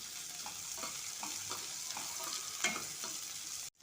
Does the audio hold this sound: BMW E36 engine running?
no